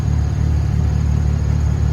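A Honda Civic's D16 engine idles at close range with a loud, low, steady rumble, a slight pulsing throb running through it, and no voices.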